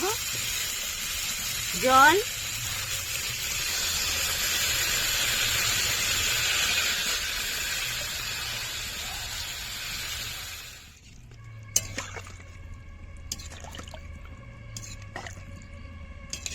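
Cauliflower cooking in a pan sizzles loudly and steadily, then the hiss drops away abruptly as water is added, leaving a quieter simmer with sharp scraping clicks; a voice is heard briefly.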